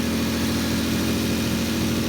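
A turbocharged Lexus IS300 engine idles steadily nearby while burning off spilled oil, a constant low rumble with a faint whirring turbo hum, unbroken and even throughout.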